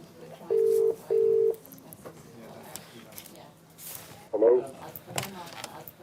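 A telephone dialed for a call at a Dublin maternity hospital: two short, steady, evenly spaced tones close by, then quieter room background with a few faint knocks.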